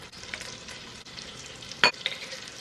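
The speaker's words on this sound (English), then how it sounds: "My butter is sizzling, so I gotta throw in the meat really soon" Soft, steady sizzling of butter in a hot frying pan with a few stirring scrapes, close and quiet, no voices, while cooking beef stew.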